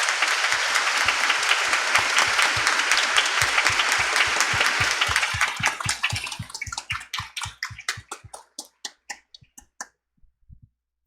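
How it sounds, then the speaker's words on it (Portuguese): A church congregation applauds warmly at an Easter Sunday dawn Mass, dense clapping that thins after about five seconds into a few scattered, slower claps before falling silent. "saudemos a Cristo com uma calorosa salva de palmas"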